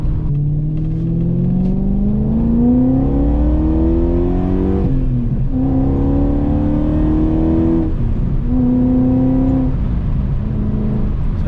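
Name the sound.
BMW V8 engine running and revving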